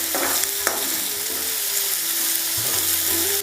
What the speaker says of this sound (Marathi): अशा प्रकारे आता हा आपला कांदा थोडासा आपण तेलामध्ये लालसर करून घ्यायचा आहे